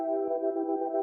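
Steady synth pad chord treated with a Shaperbox filter at sixteenth-note rate, with a subtle rhythmic pulsing movement running through the held tone, played alone and briefly.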